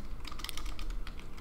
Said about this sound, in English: Now I will type